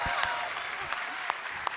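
An audience applauds in welcome for a guest introduced as the associate narrative director, a crowd clapping steadily at moderate volume, with a few sharper claps standing out and a voice speaking over it.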